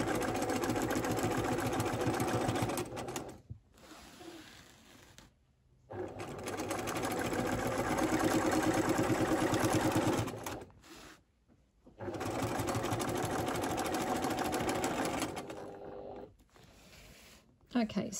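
A sewing machine doing free-motion quilting across a grid runs in long steady bursts of fast mechanical whirring, stopping briefly between passes, close and loud, while a person talks over it.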